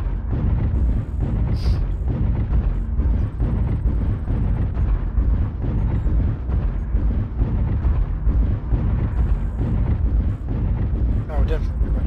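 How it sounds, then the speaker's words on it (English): Video game artillery strike explosions roll on nearly nonstop, a loud, dense wall of deep booms and rumbling blasts, with a voice speaking over the barrage. "Artillery strike online."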